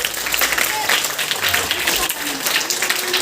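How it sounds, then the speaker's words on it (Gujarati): Steady applause from students at an Ek Bharat Shreshth Bharat quiz competition, a dense continuous clapping crowd sound with voices mixed in. "જોરદાર તાળીઓ બધા મિત્રો માટે"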